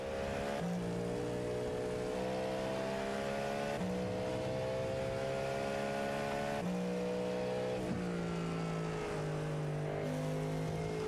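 Onboard a Cadillac race car lapping Hockenheim in a racing video game, the engine drones loud and steady, climbing in pitch through each gear then dropping sharply at every shift, repeated across the run with no talking.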